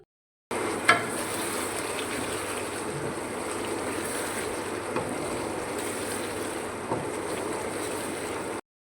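Aloo matar curry fries in a pan with a steady, close sizzle and crackle that holds at an even level throughout, broken by a few faint clinks.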